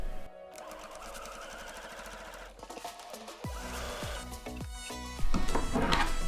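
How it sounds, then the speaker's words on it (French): A domestic sewing machine runs a straight-stitch seam on a small fabric pouch, its fast mechanical needle chatter continuing in bursts with brief pauses, close and fairly quiet, with no talking. "on va faire une belle couture au point droit"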